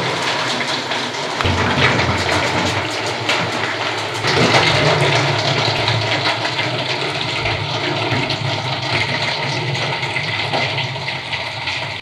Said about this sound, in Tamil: இங்கே மெட்டல் ரூஃபிங் போட்டிருக்குது, நார்மல் மெட்டல் ஷீட்டு. இதில் எப்படி சவுண்டு வந்து வருது அப்படின்றத நம்ம செக் பண்ண போகிறோம்.